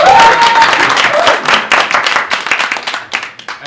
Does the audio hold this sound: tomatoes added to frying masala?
no